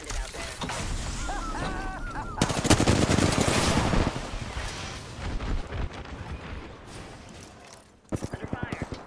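Gunfire in the Apex Legends battle royale during season 9 comes as bursts of rapid automatic shots, loud and close, mixed with game effects and a voice speaking, ending with a short sharp volley.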